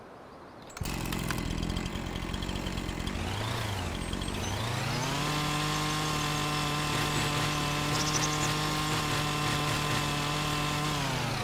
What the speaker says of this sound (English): I can take my chainsaw out